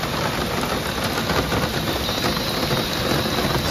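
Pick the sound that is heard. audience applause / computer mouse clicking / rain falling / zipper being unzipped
rain falling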